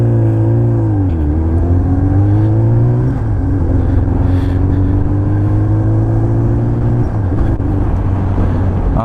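A small 300cc motorcycle engine on a winter ride, loud and close with a steady droning hum that rises and falls slightly as it shifts and accelerates, wind rushing throughout, no speech.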